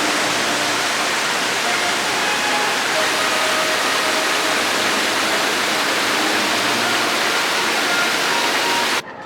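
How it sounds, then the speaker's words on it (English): Water pours and splashes continuously in the new Epcot fountain, a loud, dense, unbroken rush that stops abruptly at the very end. "this is the first time I've seen the new fountain"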